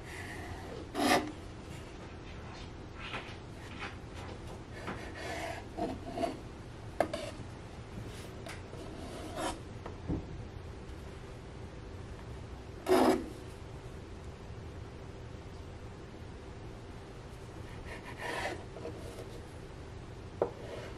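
A knife cuts through rolled-out pie dough into a square in short, quiet rasping strokes, spaced irregularly with soft scrapes and taps in a calm kitchen.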